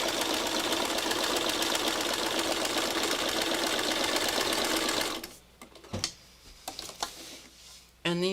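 A sewing machine stitching fabric runs at a fast, steady mechanical chatter for about five seconds, then stops, leaving a few soft clicks and handling noises.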